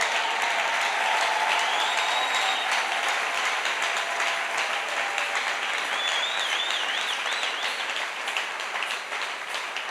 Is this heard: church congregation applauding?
yes